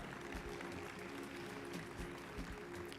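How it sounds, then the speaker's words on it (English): Audience clapping at a youth awards ceremony in Tobago, a faint, steady patter of applause heard from a distance with no talk over it. "Let's keep the round of applause going,"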